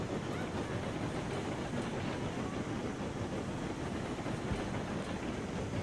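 A steam locomotive, the Mastodon, labors up an incline in the train game Railroads Online, a steady dense chuffing and rolling rumble that stays loud and even throughout with no talking.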